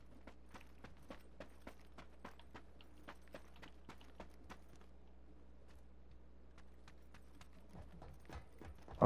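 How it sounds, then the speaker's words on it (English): Footsteps from an enemy player in PUBG on the Sanhok map, a steady run of crisp clip-clop steps over a low game hum, fading a little toward the end with a burst near the close. "Oh, there's footsteps."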